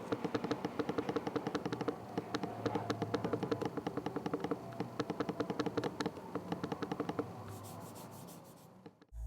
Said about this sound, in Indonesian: berikut ini adalah contoh suara feedback dari touchpad-nya.